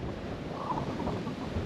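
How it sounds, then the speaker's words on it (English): Strong wind buffeting a microphone outdoors near a lake during a Saharan dust storm, a continuous low roaring rush with no pauses or voices. "Extremely windy."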